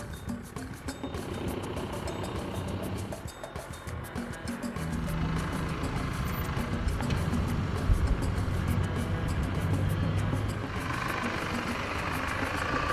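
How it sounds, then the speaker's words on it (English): A 4WD engine hums and idles steadily while a stranded vehicle is towed out on a chain, a continuous moderate rumble with slight rises in effort and no talking. "And with the slack of the chain gently taken up, the stranded vehicle can be safely extracted."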